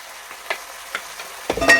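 Pork stir-fries and sizzles in a hot pan, with scraping strokes at intervals and a louder sizzling burst at the end.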